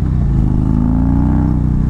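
A 2019 Indian Chieftain motorcycle lugs in second gear at low revs, its deep, steady engine rumble loud and close with no talk.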